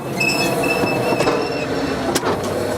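Wheels of the 4.5-ton Colebrookdale steam locomotive spinning on damp rails give a loud, sustained metallic squeal with high whining tones, over steady rumbling train noise throughout.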